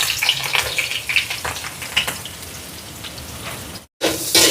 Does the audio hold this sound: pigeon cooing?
no